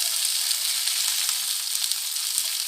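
Pepper-seasoned fish pieces sizzle steadily in a pan of hot oil, a close, continuous bright crackle with a brief soft knock near the end as the fish is turned.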